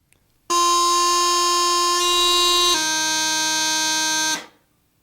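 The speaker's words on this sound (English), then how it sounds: "Here is the proper change." Bagpipe chanter sounding one loud, sustained, reedy note that switches cleanly to another partway through, then cuts off, played alone as a proper note change.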